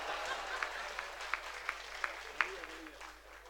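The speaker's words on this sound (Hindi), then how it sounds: "जल्दी ताली बजाओ, नहीं मेरा हाथ ऐसे ही रह जाएगा।" Audience members at a comedic talk clap in scattered, uneven bursts, a few sharp claps standing out over a quiet background murmur as the applause fades.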